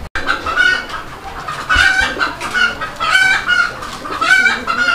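Chickens cluck loudly and repeatedly at close range, a string of excited, rising calls in uneven bursts, heard at a farm where pigeons are also kept.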